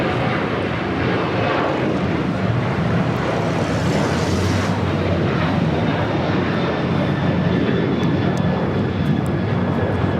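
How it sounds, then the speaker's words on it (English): A Boeing 777 freighter takes off from a south-side runway at LAX with a loud, steady jet roar that holds for the full ten seconds, dense and unbroken. "a 777 freighter will be taking off here on the south side"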